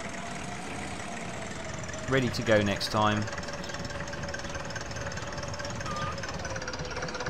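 A little red tractor in Agricultural Simulator 2013 idles with a steady, low mechanical drone throughout, while a voice briefly talks over it partway through.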